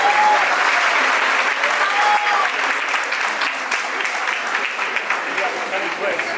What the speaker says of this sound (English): Let's give a round of applause for Pamela